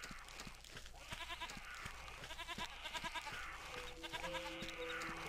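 Sheep bleating in the fantasy role-playing game Ultima 9, several short nasal bleats repeating over a steady game ambience, with a low tone entering toward the end.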